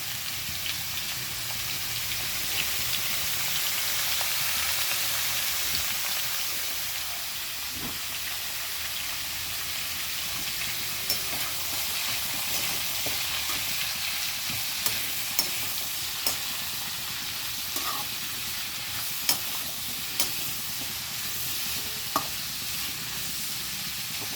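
Carrots sauté in a pan with a sprinkle of curry leaves for carrot poriyal, a steady broad sizzle with a few soft clicks of stirring, heard alone and close.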